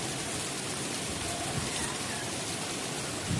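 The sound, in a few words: rain falling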